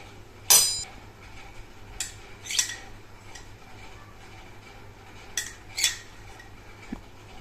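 Spoon clinking against a bowl while spices for onion papad chutney are stirred, a few sharp metallic taps and scrapes spaced out over quiet background.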